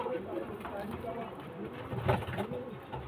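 Andhra pigeons, black-eyed and bred as flyers, coo softly in low rolling calls close by, mixed with steady background noise and bursts of nearby talk.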